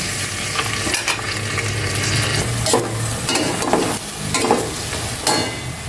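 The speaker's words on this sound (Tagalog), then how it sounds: "Gisa ko muna itong maigi bago ko timplahan." Chicken parts sautéing in a pan, a steady sizzle and fry under repeated scraping and stirring strokes of a utensil, close and busy, with no talk.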